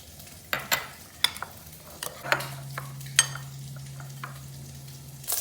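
Bacon and andouille sausage fry in a pan with a soft, constant sizzle, broken by several close clicks and scrapes of a utensil against the pan over a faint low hum.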